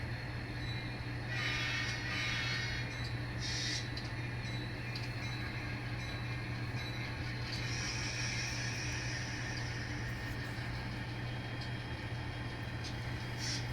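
An N scale model train pulling cars through a model CSX rail yard, a faint low steady rumble with soft intermittent higher hisses and squeaks, no talk.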